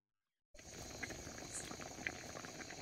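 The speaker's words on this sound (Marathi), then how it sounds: "आता कालवणाला कशी खळखळून चांगली उकळी आल्या बघा." Matki curry bubbles at a vigorous rolling boil in a pot over a village wood-fired clay stove, a steady close hiss of boiling with faint pops, starting abruptly after a moment of silence.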